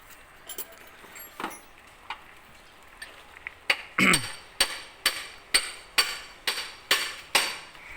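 A hammer strikes metal while driving a bearing out of a six-wheel truck: about nine sharp, ringing blows in a steady rhythm, close and loud, after a few scattered clinks.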